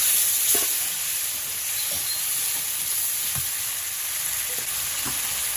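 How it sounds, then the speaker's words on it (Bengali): Chopped tomatoes with a little water sauté in a pan for a village-style Bengali curry, giving a steady close sizzle with occasional stirring clicks. "আর একটু সামান্য একটু জল দিয়ে তাকে খুব ভালো করে কষিয়ে নেব।"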